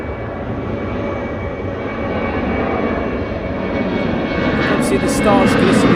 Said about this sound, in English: The aircraft go past as well.